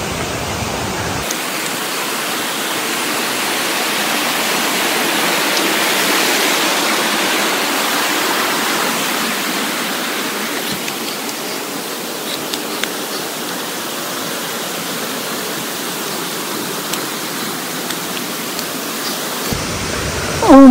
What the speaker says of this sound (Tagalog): Andito tayo sa Tagbibinta Falls.